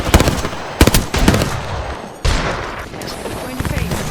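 Heavy-ammo gunfire in Apex Legends: loud rapid bursts of automatic fire, a pause, then a heavier stretch of shots and trailing pops, with game noise around it.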